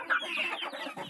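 Young chickens raised about two months, clucking in a quick, busy run of calls close by, the clucks overlapping in a steady flurry with no voices.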